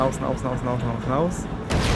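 Booming blasts and crackling bursts of propane gas bottles exploding in a video game rumble beneath someone talking, ending with a sharp broadband burst near the end.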